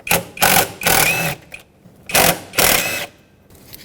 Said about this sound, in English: Use a 10mm socket and remove the two bolts holding this intake piece on.